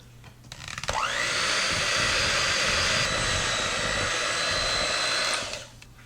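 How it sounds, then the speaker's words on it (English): An electric mixer whirs steadily through cake batter of flour and milk for a butter pecan cake, starting with a rising whine, holding a loud, even drone for several seconds, then cutting off. "We're going to mix this until well combined."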